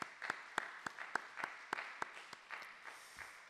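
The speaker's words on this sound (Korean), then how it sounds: "우리 함께 격려하며 축하하는 박수 함께" Scattered applause from a small church congregation during a worship service, individual claps standing out in a loose, irregular rhythm before tapering off.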